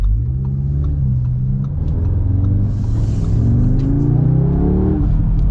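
A 2025 Audi S3 accelerates hard, its engine rumbling loud and close with rising revs and a few shifts, alone with no talk.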